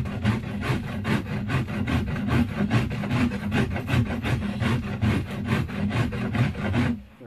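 Knife shaving down the belly of a yew bow stave, a steady run of rhythmic, raspy scraping strokes close up, about two per second, ending abruptly, with no voices.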